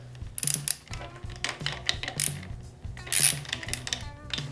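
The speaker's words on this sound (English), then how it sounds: "Next, I'm gonna loose up the throttle assembly with an 8mm over here." An 8mm ratchet wrench loosens the throttle assembly on a Ducati Scrambler during a handlebar swap. Close, crisp pawl clicks come in repeated short bursts with brief pauses between strokes, and no one speaks.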